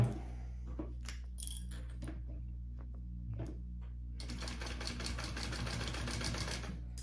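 A sewing machine stitches a handbag seam, with a few short bursts and pauses at first, then a steady, rapid run of stitching over a constant low motor hum, close and quiet.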